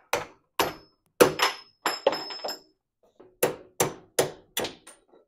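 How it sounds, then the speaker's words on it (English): A hammer smacks the door hinge of an RA24 Toyota Celica held in a vise, about eleven sharp, close, loud metallic blows in two uneven groups with a brief pause between. "and smack the hinge"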